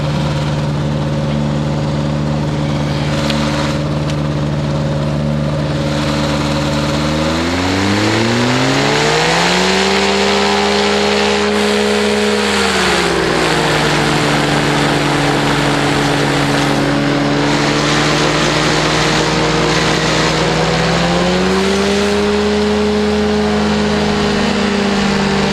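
A small propeller airplane on a sod field roars steadily at close range, its engine note dipping and then climbing and holding as power changes during the takeoff run, loud and continuous with no talk.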